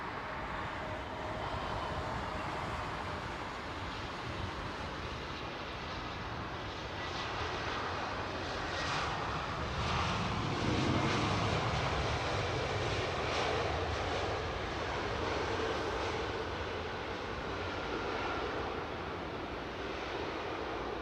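At London Heathrow Airport, a Sky Airbus Neo airliner sends out a continuous jet engine roar that swells gently near the middle and then eases, heard at a distance in steady outdoor ambience with no talking.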